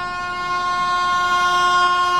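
The 12259 Sealdah–Bikaner AC Duronto train overtakes alongside, its loud sustained horn blaring over the rumble of passing wheels and carriages close by.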